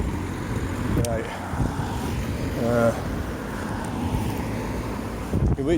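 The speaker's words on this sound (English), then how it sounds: "You wait till that car gets round." Car driving around the Greencornhills roundabout in Bannockburn, Stirling, Scotland, heard as a steady traffic rumble under wind buffeting on the microphone, with someone talking over it.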